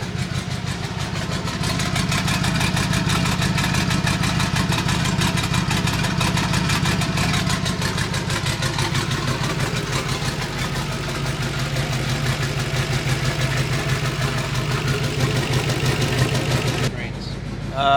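A twin-turbo DeLorean V2 idling with its engine running, a steady, loud, rough drone held for most of the stretch before it cuts off near the end.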